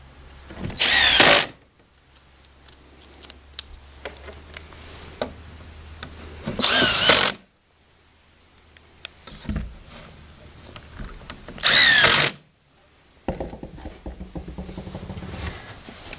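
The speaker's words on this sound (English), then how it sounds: "then you just finish screwing it together, or screwing the hinges on" Power drill driving screws into the hinges of a folding wooden sawhorse: three loud whirring bursts, each about a second long, spaced several seconds apart, with quieter handling noise in between.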